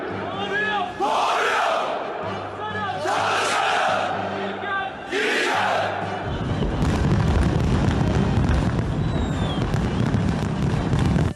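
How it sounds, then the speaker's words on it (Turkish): Fireworks at a Turkish Republic Day celebration on the Istanbul Bosphorus, with repeated bursts and crackles amid crowd cheering and chanting, giving way to a dense continuous roar of crowd and noise. "Işık ve havai fişek gösterileri mest etti."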